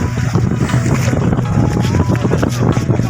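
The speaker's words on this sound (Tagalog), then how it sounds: "medyo naglalakas-lakasan yung alon mga idol" Strong sea waves churning near the shore ahead of an approaching typhoon, a loud continuous roar mixed with wind buffeting the microphone while people talk over it.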